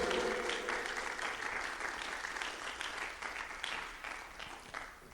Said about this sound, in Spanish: Dele un aplauso al Señor si me va entendiendo.